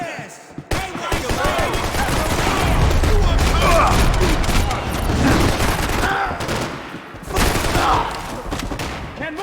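Sustained gunfire and fusillades in the video game Max Payne 3, dense rapid shots filling most of the stretch with loud bursts, while voices shout over the shooting.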